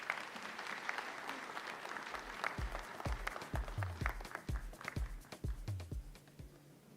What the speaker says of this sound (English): A big applause to Dr. Nyakango.